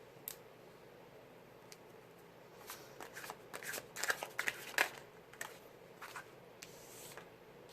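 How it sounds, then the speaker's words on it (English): Tarot cards being shuffled by hand before a reading, quiet riffles and soft clicks in short irregular bursts that build in the middle, close and alone without talk. "I'll discuss them after I pull the cards."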